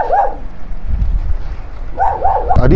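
A dog barks in a storm-damaged Benguet area after a signal no. 4 typhoon, with two bursts of yapping barks, one at the start and one near the end, against a low rumbling background.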